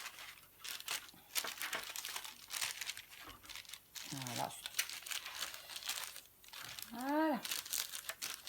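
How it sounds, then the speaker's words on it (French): Parchment baking paper crinkles and crumples in repeated rustling bursts as it is pressed into an oven dish, close and fairly loud, with a person speaking French in between. "On va le chemiser avec une feuille de papier cuisson."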